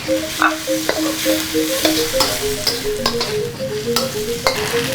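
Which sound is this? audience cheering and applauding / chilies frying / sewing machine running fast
chilies frying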